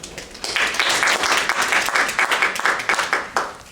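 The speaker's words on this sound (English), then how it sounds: "please give them a warm round of applause to welcome them" Audience applause welcoming presenters at a film screening, a short burst of many claps that swells after a brief pause and stays fairly close and bright, with some distinct individual claps standing out.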